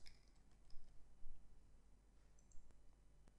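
Quiet, sparse clicks of a computer keyboard being typed on, a few soft taps spread over a few seconds against a faint background hum.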